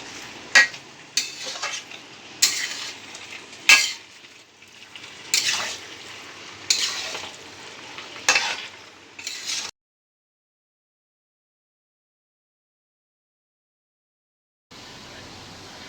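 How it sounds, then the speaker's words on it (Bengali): Dal (lentils) frying in a pan in a home kitchen, heard as a series of sharp scraping, clattering stirs over a low sizzle for about ten seconds, then a few seconds of silence before the frying noise returns. "এই ডালটাকে একটু ভেজে দিচ্ছি"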